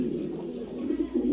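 Lahori pigeons cooing at a pigeon farm, a low steady burble running the whole moment, fairly close and continuous with soft swells near the end.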